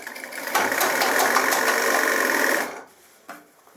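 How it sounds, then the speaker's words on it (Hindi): A sewing machine runs a steady, loud stitching burst for about two and a half seconds while sewing a pant seam during a trouser alteration, then stops, followed by a brief handling knock. "अब मैं थोड़ी सी और यहां तक सिलाई लगा के बताता हूं।"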